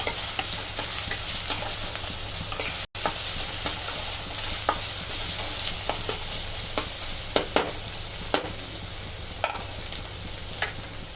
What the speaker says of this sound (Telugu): ఈ పచ్చిమిర్చి ముక్కలు కూడా ఇందులో వేగాలి.